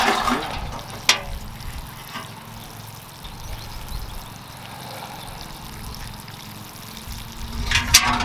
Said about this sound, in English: Now I'm just going to go ahead and water these in.